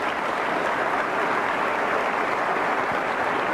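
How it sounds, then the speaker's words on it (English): Applause from the audience at West Virginia's State of the State address under Gov. Jim Justice: a dense, steady wash of many hands clapping at even loudness for several seconds, with no voices over it. "Please give them a round of applause."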